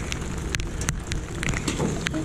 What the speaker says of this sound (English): I was hoping to get it done before it rained, but it's not going to happen.